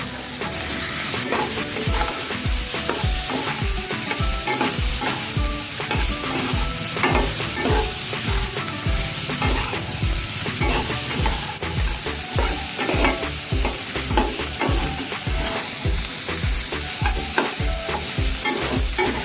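Small boiled potatoes are tipped into peas frying in a pan and stirred with steady, repeated scrapes over a continuous loud sizzle, close up and with no voices.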